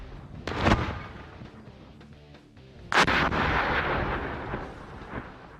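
An oilfield perforating shaped charge detonating at the surface, giving two loud, sharp blasts about two seconds apart, each followed by a rumbling tail that lingers after the second.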